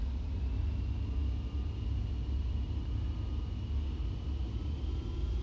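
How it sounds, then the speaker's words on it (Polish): An airliner's engines spooling up to full thrust for the takeoff roll in Microsoft Flight Simulator X, a steady, loud, broadband roar and rumble with a faint rising whine, no voices. "najpierw mamy auto brake off i po prostu rozpocznę start"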